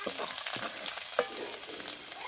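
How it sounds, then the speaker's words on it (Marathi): Garlic crackles and sizzles in hot oil for a tempering, a close, steady spitting hiss with small pops and stirring, and no voices. "तेल गरम झाल्यानंतर फोडणीसाठी आपण अशी लसूण टाकलेली आहे"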